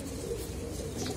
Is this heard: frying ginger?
no